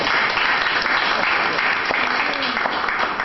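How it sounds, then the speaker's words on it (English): Dense, sustained applause from an audience at a Lagos health policy event, loud and even throughout, honouring a teacher. "can you give her a good round of applause?"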